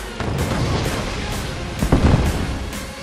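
Ship artillery rumbling in a Soviet naval war video game, a dense run of deep booms with a louder blast near the end, heard alone without talk.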